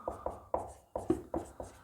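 Pen or pencil scratching out a geometry solution on paper, a run of short rhythmic strokes about every quarter second, close and clear with no voice over it.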